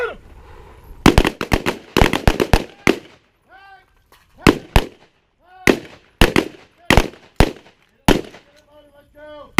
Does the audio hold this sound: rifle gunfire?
yes